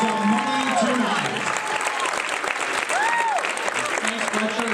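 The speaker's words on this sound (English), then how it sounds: "Give a round of applause" Applause from an audience at an Arthritis Foundation Silver Ball fundraising gala, steady clapping throughout with a voice speaking over it.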